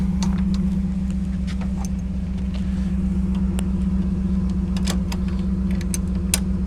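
A truck engine idles steadily with a low, continuous rumble while hooked up to an Airstream trailer, joined by scattered small metallic clicks and clinks throughout and no talking.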